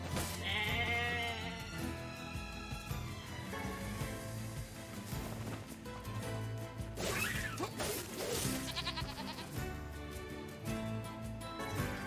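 Sheep bleat in the video game NieR Replicant over dense game music and combat effects, with several bleats rising above swooshes and crashes throughout.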